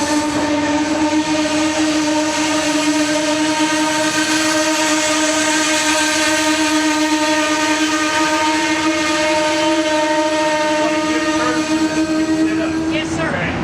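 A passenger train sounds a loud, sustained horn chord close by, steady and unbroken, with a rising squeal at the end.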